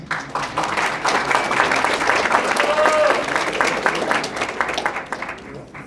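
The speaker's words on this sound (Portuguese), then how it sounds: "aplauso para Jefferson Lima" Audience applause for a presenter at a university final-project presentation event, steady clapping sustained throughout with a faint tone and some background voices mixed in.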